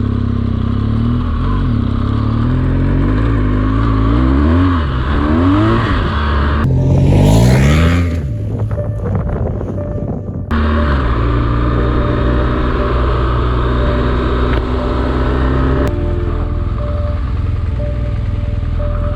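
A BMW R1200GS motorcycle ridden off-road, its engine droning loud and close with rising and falling revs, a brief burst of wind buffeting midway, then a steady run.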